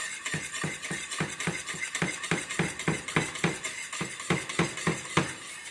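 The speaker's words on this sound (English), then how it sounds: "You want to stir the edges, make sure none of it burns." A spoon scrapes and clinks steadily around the edges of a pot of heating food, repeated rhythmic strokes close by with no talk.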